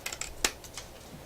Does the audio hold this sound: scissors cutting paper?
yes